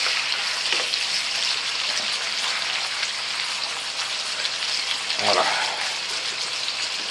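Squid pieces fry in a hot pan for calamari Provençal style, a steady dense sizzle and crackle running throughout, with a single brief word spoken partway through.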